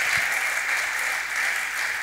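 Audience at a church youth conference applauding to welcome a pastor, a steady, dense wash of clapping from a crowd, fairly distant and even, with no speech over it.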